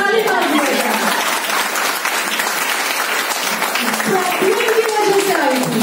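An office audience at a Women's Day celebration in Dadar applauds the women, dense loud clapping sustained throughout, with voices and cheers mixed in near the end.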